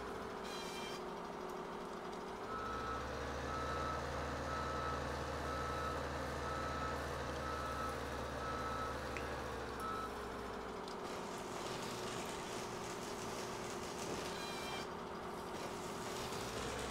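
A truck in a farming video game backs up, its steady reversing beeps pulsing over a low engine drone that rises and falls as the vehicle moves.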